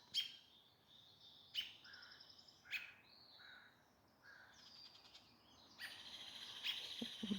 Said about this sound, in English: looks like a robin and another little bird